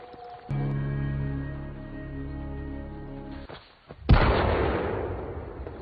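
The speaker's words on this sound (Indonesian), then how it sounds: "Mendengar suara tembakan lagi" A long sustained tonal drone in a film is cut off by a sudden loud gunshot blast, followed by a burst of noisy rumble that fades out.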